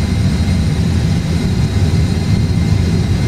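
Airbus A320 jet engines roar at takeoff thrust from inside the cockpit, a dense, steady low rumble with broadband hiss that holds constant throughout, with no voices.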